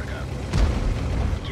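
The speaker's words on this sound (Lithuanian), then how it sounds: "tankiukas gali ir taranuoti" In a tank video game, a tank rams another and makes a dull, heavy impact thud. The thud rises briefly out of a constant loud engine rumble and battle noise.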